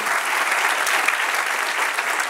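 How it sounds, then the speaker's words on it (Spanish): Congregation applauding during a church sermon, a continuous wash of many hands clapping at steady volume, filling the whole short stretch without pause. "Dale un aplauso al que reina"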